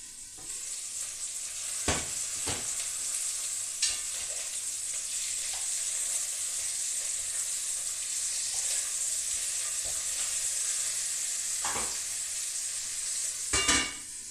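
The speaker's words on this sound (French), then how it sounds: "Je vais retourner le poulet parce qu'il commence à crépiter." Chicken frying in a pan for a coconut chicken dish, a steady loud sizzle with crackling throughout and a few sharper pops and clanks, with no talking.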